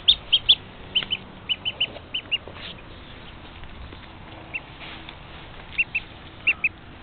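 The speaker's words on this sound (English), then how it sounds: "there's the duck just to say I have a duck" High, thin peeping from a duckling, repeated in quick bursts of two or three with short gaps, close by over a soft background hiss.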